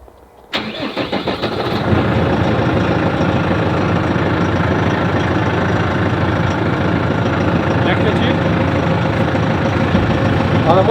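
A New Holland tractor engine cranks and catches, then settles into a loud, steady diesel idle that rumbles on without a break.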